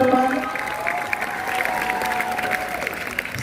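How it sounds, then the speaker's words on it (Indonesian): Applause from a school orientation audience at SMAN 2 Palangka Raya, a steady wash of clapping from a crowd heard up close, with a voice faintly underneath. "Boleh kita berikan tepuk tangan yang meriah, teman-teman."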